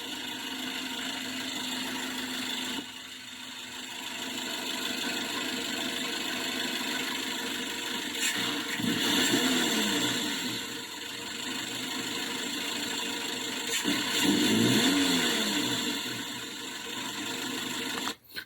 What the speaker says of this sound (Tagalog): dito guys, mapapansin nyo yung tunog ng ating makina